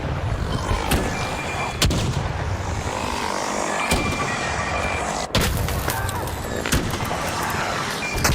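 Enemy Bombardier shelling in ARC Raiders: repeated heavy blasts and booms strike every second or two over a constant roar of battle, loud and close, with no voices.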